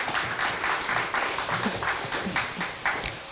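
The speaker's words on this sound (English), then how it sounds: "Give them a round of applause." Audience applause at an art exhibition event, a steady patter of clapping from a modest crowd with a few louder individual claps standing out near the end.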